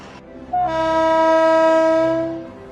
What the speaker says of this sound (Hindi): पटरियों पर दौड़ती कोयले से लदी यह रेलगाड़ी देश के बिजली घरों को रोशन करने चल पड़ी।